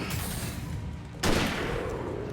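A hunting rifle fires a single loud shot at about the midpoint in the video game Alan Wake Remastered, a sharp crack over a steady background rumble of ambient game sound.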